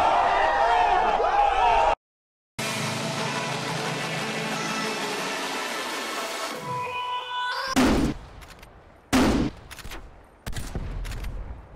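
Rapid, loud gunfire from the Call of Duty Cold War video game bursts out in sustained volleys. A short silence breaks them up, and sharp separate shots follow near the end.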